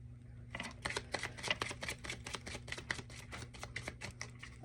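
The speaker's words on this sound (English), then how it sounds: "I'm going to shuffle the cards" Tarot cards being shuffled by hand at close range: a quick series of sharp, crisp riffling snaps in an uneven rhythm over a low background hum.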